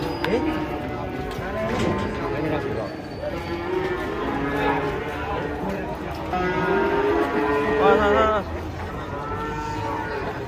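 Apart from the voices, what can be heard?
cattle mooing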